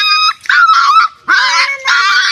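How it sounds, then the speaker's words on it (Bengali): Close, loud whimpering and yelping from a small puppy during a bath, several strained high cries with short gaps between them. "এই যে কুত্তার একটা ছাও বাচ্চা গোসল করাইতেছে"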